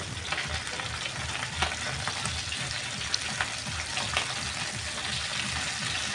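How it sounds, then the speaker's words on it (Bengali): A second batch of tengra fish frying in oil, a dense, even hiss and crackle heard up close with small scattered pops and no voices. "প্রথমে যে পাট দিয়েছিলাম সেই পাট ভাজা হয়ে গেছে এখন দ্বিতীয় পাট দিয়ে দিলাম"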